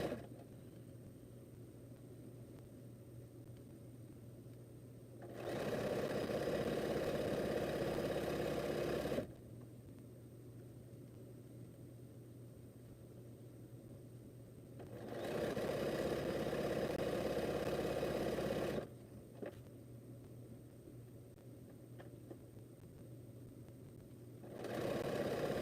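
A sewing machine stitches a quilt border in three steady bursts of fast mechanical whirring, each a few seconds long, separated by quieter pauses with a low background hum; no one speaks.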